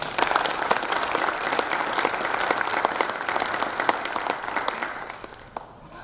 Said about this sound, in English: So please, for the Rotary Club, if you don't mind giving a round of applause.